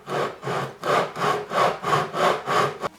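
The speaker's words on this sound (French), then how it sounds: "et on va poncer en fait" Wood is sanded by hand with abrasive in steady back-and-forth strokes, six or seven even rasping passes at a regular rhythm, close and clear with no talking.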